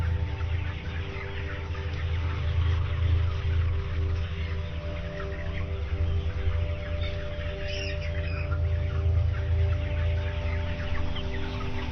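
Many broiler chickens cluck and squawk continuously inside an Italian chicken farm shed, a dense, steady chorus of overlapping calls with a low mechanical hum beneath.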